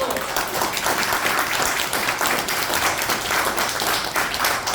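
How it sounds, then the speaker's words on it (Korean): Dense, sustained applause from a large crowd at a commemoration ceremony in Seoul, a continuous roar of many hands clapping at once. "박수 쳐! 박수!"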